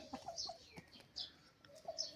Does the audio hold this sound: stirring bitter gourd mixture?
no